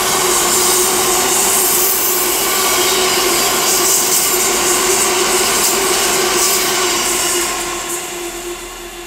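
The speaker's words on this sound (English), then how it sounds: "now passing by is a Freightliner Class 66" A Freightliner Class 66 diesel freight train running from Crewe Basford Hall to Northampton Castle Yard rolls past Lichfield Trent Valley on the West Coast Main Line, a loud sustained engine drone and wagon rumble that eases off near the end.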